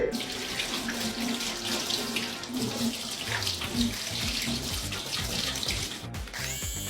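Tap water pours steadily over a small waterproof IPX7 electric shaver, a constant loud splashing and hiss close to the microphone, with no talking.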